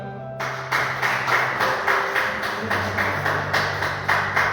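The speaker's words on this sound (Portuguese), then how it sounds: "Que as palmas louvem ao Senhor." Church congregation clapping together during a worship service, a steady rhythmic run of loud, even handclaps at a brisk pace, close and sustained, with a low hum underneath.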